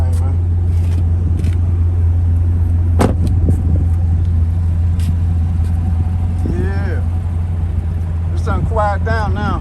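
2017 Chevrolet Camaro SS idling after a cold start, a loud steady low engine drone that continues throughout, with clicks and a voice talking over it near the end.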